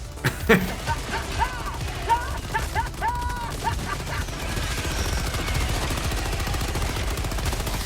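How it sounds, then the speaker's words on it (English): Bursts of light machine gun fire from the video game Helldivers 2 come in several rapid clusters over the first few seconds alongside game effects, then give way to a steady background rumble. "that light machine gun does some good work"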